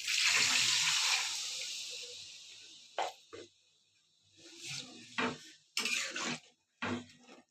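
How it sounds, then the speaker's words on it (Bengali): Water runs from a tap into a cooking pot in a kitchen, a bright steady pour at first that tapers off, followed by several short clanks of pots and utensils. "এবার আমি জল দিয়ে দিচ্ছি"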